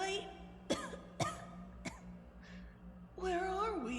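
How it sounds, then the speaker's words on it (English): A few sharp, close coughs come in quick succession, followed by a voiced throat sound, all fairly quiet. "Spike coughed."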